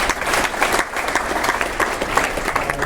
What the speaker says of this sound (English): I'm sick of clapping now, so we're going to stop.